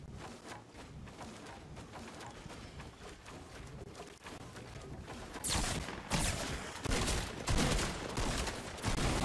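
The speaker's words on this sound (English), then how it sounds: "I'm getting shotgunned over here." Fortnite gunfire crackles through a battle, with a steady patter of shots at first and then heavier, louder blasts bursting in during the last few seconds.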